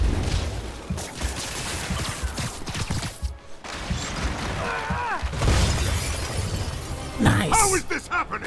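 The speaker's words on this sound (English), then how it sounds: "Dodge the turret fire" Turret gunfire in a video game plays as rapid bursts of shots with shattering, crashing impacts and zipping effects, loud and close, while a man reacts with excited speech.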